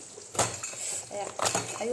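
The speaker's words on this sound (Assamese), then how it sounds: "এইখিনি এতিয়া কুকাৰত দি দিম। কুকাৰত অকণমান পানী দি লৈছোঁ, তাৰপৰা এইখিনি দি দিওঁ।" Ingredients tip into a pressure cooker holding a little water, making a few metallic clanks and clinks of utensils against the pot over a short moment, with a voice speaking alongside.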